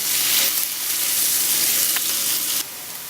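Chopped onions sizzle in a pan with a pinch of salt as they are stirred, a loud continuous frying hiss with brief scraping accents before the sound drops slightly near the end.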